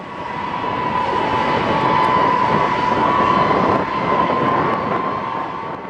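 A US Air Force B-52 bomber roars through an emergency takeoff at full power, a loud, steady jet-engine rumble with a sustained whine that holds for the whole stretch, no voices.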